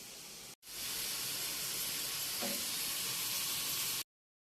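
Fries and liver frying in a small pan, a loud continuous sizzle and hiss that starts after a brief gap and cuts off abruptly.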